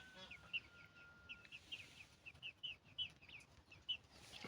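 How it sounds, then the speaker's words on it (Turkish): Faint, high chirping peeps from chicks about two and a half months old, hatched in an incubator, repeat irregularly over a low background hiss, calling nearby. "Görmüş olduğunuz civcivler şöyle arka tarafta da gözüküyor."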